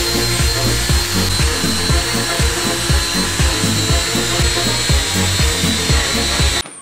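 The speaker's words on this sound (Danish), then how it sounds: "Vi skal til at slibe det første lag af." A power sander grinds steadily against a motorcycle frame, a loud, close, continuous whir with a rhythmic pulsing rasp that cuts off abruptly at the end.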